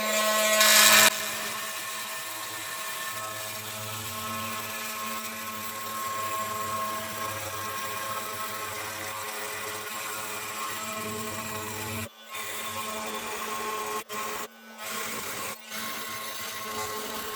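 A Makita oscillating multi tool, blade held flat, cuts through timber with a steady high buzzing whine that briefly cuts out a few times near the end.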